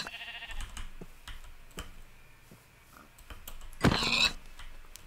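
Sheep bleat in Minecraft, with one clear bleat standing out near the end over scattered ticks and faint game sounds.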